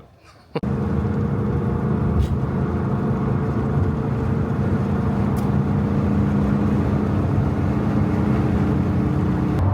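A Volkswagen Type 3 Notchback drives along steadily after a brief quiet start, its engine producing a continuous, even low hum and road noise that stays close and loud without a break.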